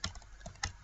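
A computer keyboard clicks as someone types code in Visual Studio. There are a few quiet, separate keystrokes with gaps between them, and no voice.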